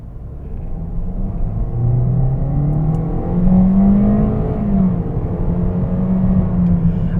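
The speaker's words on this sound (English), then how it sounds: "if you hear road noise, it's because the roads in here are not up to par" Steady road noise and a low engine hum inside a 2020 Toyota Corolla Hatchback driving on rough, poorly kept roads. The rumble is constant and fairly loud, the engine pitch rises and falls gently, and nobody speaks.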